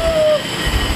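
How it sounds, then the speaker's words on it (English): Rainbow-painted tourist train pulling in, a loud rumbling roll with a brief high wheel squeal at the start fading into steady rail noise. "The rainbow train has arrived."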